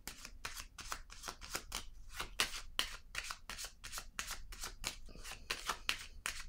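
Small playing cards handled and drawn one by one, a series of crisp papery flicks and slides in an uneven rhythm, close and fairly quiet with no talk.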